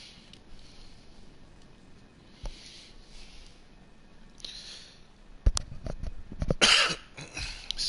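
A man coughs several times in quick, sharp bursts near the microphone, following quieter stretches of faint background sound.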